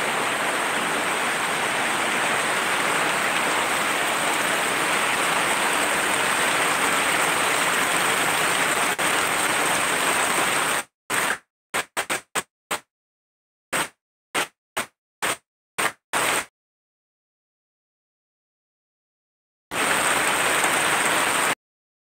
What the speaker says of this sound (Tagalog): Napakalakas ng ulan guys